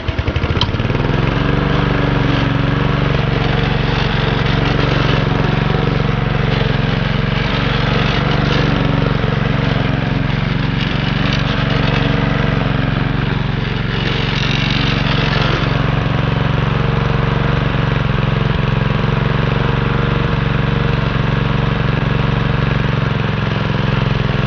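A small-engine lawn mower, freshly repaired after a stuck pull cord, runs loud and steady at a constant idle-like drone for the full stretch, with no pauses.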